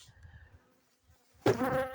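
A soft insect-like buzzing from a half-frame honey bee nucleus hive drifts in the background, then a louder, fuller hum of honey bees swells up near the end and holds steady.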